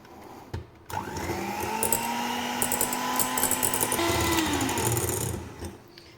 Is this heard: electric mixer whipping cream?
yes